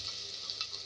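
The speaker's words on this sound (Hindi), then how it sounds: "इसको थोड़ा भून लेंगे" Coriander, turmeric and red chilli masala, with a little water, frying in a pan for an aloo lobia curry, making a steady close hissing sizzle with faint crackles and no talk.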